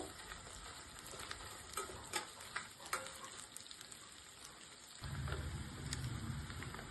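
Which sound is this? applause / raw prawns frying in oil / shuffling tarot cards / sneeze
raw prawns frying in oil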